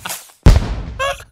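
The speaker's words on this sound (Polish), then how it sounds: "No puściłem fajerwerki mu!" A sharp, loud bang close by, followed by a crackling tail and a brief whistling screech from a New Year's firework in a video game.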